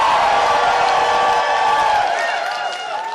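A dance-floor crowd at the AnthrOhio 2023 furry convention fursuit dance competition cheers and whoops: a loud, sustained mass of voices that holds for several seconds before easing slightly.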